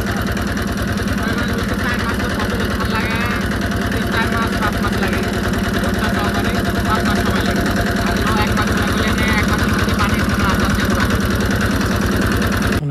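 A motorboat engine runs steadily close by, a rough mid-pitched drone with a fast regular throb that continues the whole time while people talk over it.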